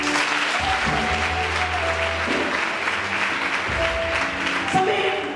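A congregation at a church worship gathering claps and cheers in steady, dense applause that fills the room, with sustained musical tones and some voices running underneath throughout.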